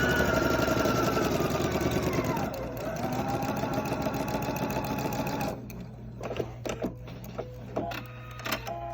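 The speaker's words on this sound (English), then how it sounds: "I can just keep going this direction and sew all the way to the end" Sewing machine stitching a Y seam in fabric, a steady fast mechanical whir close by that slows and pauses before resuming in short stitch bursts, with someone talking over it.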